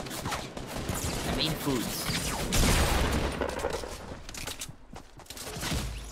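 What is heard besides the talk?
gunfire in the video game Fortnite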